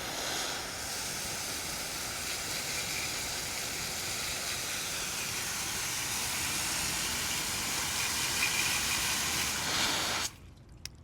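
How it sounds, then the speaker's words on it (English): Steady, loud water spray rinses a Challenger Hellcat's ceramic-coated wheels outdoors, a continuous hissing wash that runs unbroken for about ten seconds before cutting off abruptly. "So give it a good rinse."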